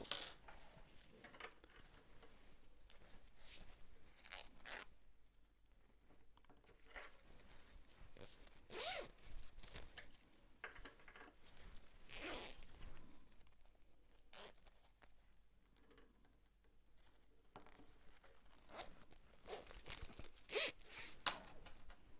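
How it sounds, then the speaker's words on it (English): A zipper pull on a sewn backpack is worked along its top zipper, giving several short scratchy zips spread across a quiet stretch, with small clinks and handling noises between them and no voices. "Top zipper pull."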